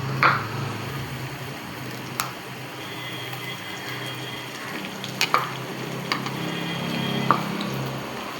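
Green chillies stirred in a hot pan while cooking a greens stir-fry, with a soft continuous sizzle under scattered scraping and clinking of a spoon against the pan.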